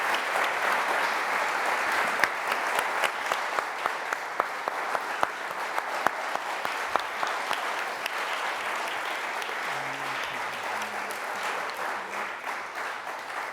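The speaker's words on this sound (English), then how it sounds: "Please give all of our First Selectman candidates a big round of applause." An audience gives long, steady applause for First Selectman candidates at the end of a town political debate, a dense wash of clapping with a few sharper individual claps standing out. Faint voices come in near the end.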